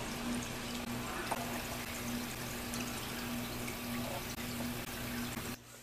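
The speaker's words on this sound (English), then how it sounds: "pull water from inside the tank down to a bucket below" Water siphoned out of a classroom salmon aquarium flows steadily down a tube into a bucket below, a continuous trickling wash that cuts off near the end.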